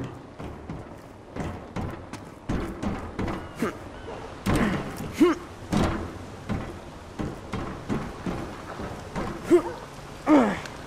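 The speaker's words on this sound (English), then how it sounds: "The rain won't hurt you." Rain with scattered thunder and impact-like bursts in the Concrete Genie video game, steady patter broken by repeated louder cracks and rumbles, with a person talking over parts of it.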